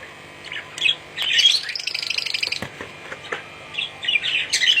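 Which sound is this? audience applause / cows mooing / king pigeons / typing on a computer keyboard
king pigeons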